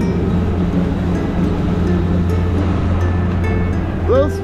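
A boat engine drones steadily on the water in Scotland Bay, Trinidad, a close, continuous low hum with a brief rising whine near the end and no talk over it.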